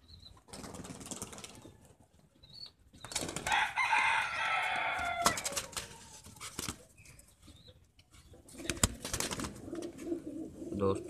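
Pigeons kept by a high-flyer pigeon keeper, with soft cooing, fluttering wing flaps and rustling handled up close, interspersed with someone speaking and bursts of background noise.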